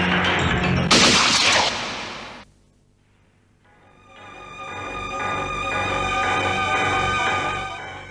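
Heavy gunfire in a Hindi crime drama scene: a dense, loud burst of rapid shots, a brief near-silent gap, then a long sustained barrage of continuous firing with no talk.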